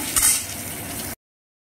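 Crushed ginger dropped into hot oil in a kadai, a close sizzle that flares briefly at the start, then settles into a steady frying hiss before cutting off, no voices.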